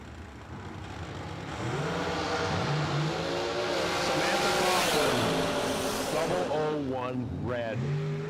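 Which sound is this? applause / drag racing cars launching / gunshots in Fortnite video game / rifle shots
drag racing cars launching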